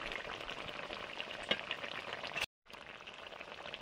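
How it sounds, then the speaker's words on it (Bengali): A pot of spicy Bengali fish curry with radish bubbles and sizzles steadily, a dense close crackle that runs without pause, broken only by a brief cut near the end. "ঝাল ফুটে গেছে"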